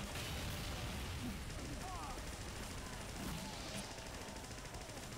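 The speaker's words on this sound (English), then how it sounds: "Burning scatter shots, holy crap." Burning scatter shots fire in a video game as a faint, dense crackle of repeated blasts spread across several seconds, with voices talking over them.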